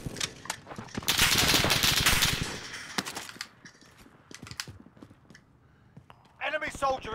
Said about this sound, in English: Shit, I'm getting shot at.